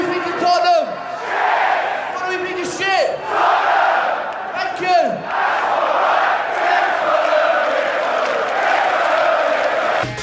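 Stadium crowd in an EA FC 24 football game roaring and chanting after a 3-2 win, with repeated swelling battle-cry surges over a continuous crowd din.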